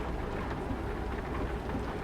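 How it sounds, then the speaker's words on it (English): Rain patters steadily in Euro Truck Simulator 2, a constant, even hiss of drops with a low rumbling undertone and no voices. "that constant pitter-patter of rain"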